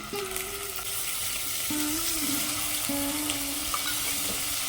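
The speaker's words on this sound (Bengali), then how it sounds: "তেল গরম হয়ে গেছে দিয়ে দেব চিংড়ি" Prawns dropped into hot mustard oil in a pan, a steady loud sizzle and crackle running throughout, with a few spatula scrapes and a low hum underneath while the prawns fry, for a flower-based Bengali dish.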